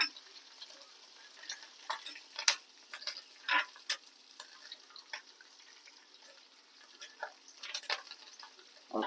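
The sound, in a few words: tempering spices frying in oil for bottle gourd curry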